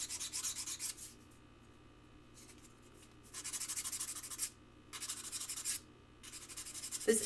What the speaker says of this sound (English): give a little bit of sanding